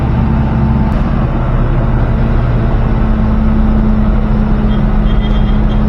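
Car driving along the winding Sathyamangalam ghat road, a loud steady engine hum and road drone close up, continuous and unchanging throughout.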